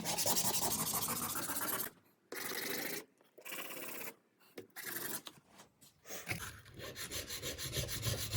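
A file rasps against a snowmobile starter part in short bursts of rough scraping, broken by brief pauses, quiet and close, with no talk.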